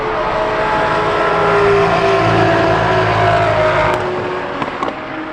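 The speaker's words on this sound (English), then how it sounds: "Cinque's on the track. Just listen to like the noise of this." A Koenigsegg-style Cinque hypercar on the track at an OC Festival of Speed event, its engine roaring loud and close as it passes, the note dipping toward the end with a few pops.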